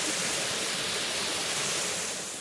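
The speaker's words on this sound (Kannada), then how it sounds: "ವಾಟರ್ ಫಾಲ್ಸ್ ನನ್ನ ಹಿಂದೆನೇ ಉಂಟು" A waterfall pours behind the listener, a close, dense hiss of rushing water that holds steady and then eases slightly in level.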